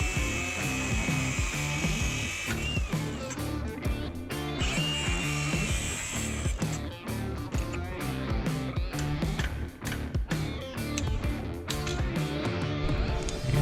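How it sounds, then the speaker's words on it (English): A power tool grinds and cuts through rusty axle U-bolts under a Jeep, a continuous harsh, loud whine with fluctuating pitch and rattling bursts throughout, close up and without talk. "probably gonna have to cut those U-bolts too,"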